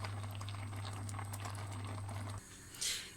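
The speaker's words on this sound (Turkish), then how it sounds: "Yarım saatten fazladır kaynıyor." Steady bubbling and soft popping of thick orange jam simmering in a pot, continuous and close, with a brief clatter near the end.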